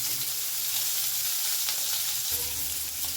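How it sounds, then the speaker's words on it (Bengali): Bitter gourd pieces fry in hot oil in a pan, giving a steady, even sizzle with a faint low hum beneath and no talking. "উচ্ছেগুলো লাল করে ভাজা হয়ে গেছে"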